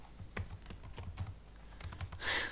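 Fingers type on a computer keyboard while coding a JavaFX rock-paper-scissors app, with rapid irregular clicks and keystrokes running close and steady throughout, ending in a brief burst of brighter noise.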